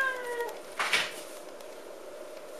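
A kitten meows indoors, a short rising and falling cry near the start followed by a brief rustle, faint and alone without talking.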